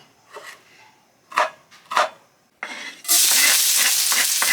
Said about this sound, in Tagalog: Nagigisa na po si Mami.